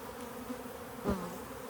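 Honeybees buzz around a hive that is swarming, a faint continuous hum with one brief louder pass as a bee flies close midway.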